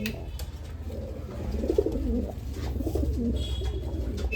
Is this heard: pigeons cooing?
yes